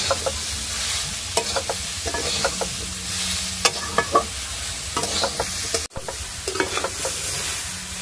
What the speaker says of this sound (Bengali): ভালো করে নেড়ে নিয়েছি।